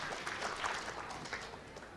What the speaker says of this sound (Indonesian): Sekali lagi tepuk tangan untuk narasumber kita